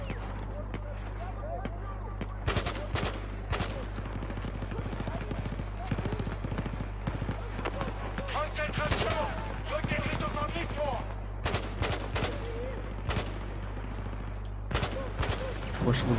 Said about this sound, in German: Beschuss aus Richtung Eingang. Bestätige Beschuss.